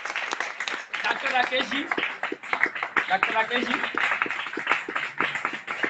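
An audience claps at a meeting, a dense patter of hands running throughout beneath a voice speaking loudly over a microphone.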